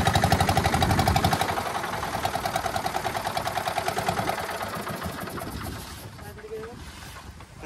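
A fishing boat's engine runs steadily with a loud, rhythmic throb under wind noise, then eases and quiets toward the end as if being throttled down or shut off.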